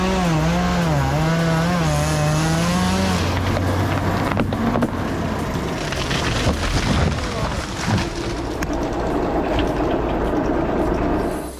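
Big chainsaw cutting through a large tree, a loud continuous high-revving engine whine that dips and strains as it bites into the wood, close and steady throughout.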